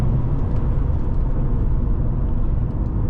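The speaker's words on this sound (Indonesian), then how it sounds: "ada suara blub itu pada saat kita oper gigi" Steady low engine rumble with sports exhaust drone from a 2017 Mercedes-Benz C300 AMG 2.0 turbo automatic, continuous and fairly loud, without distinct pops standing out.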